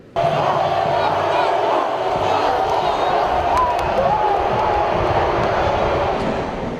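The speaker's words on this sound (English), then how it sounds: "Almost a capacity crowd in Williams-Brice Stadium as we kick this one off" Near-capacity crowd at Williams-Brice Stadium for a South Carolina college football kickoff roars as a loud, steady wash of cheering with a few sharp peaks, over a continuous murmur.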